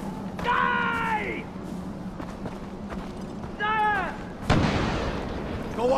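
Gunfire in the video game Far Cry 4: a sharp blast near the end over steady game ambience, with voiced cries and tonal shouts earlier in the scene and no clear human speech.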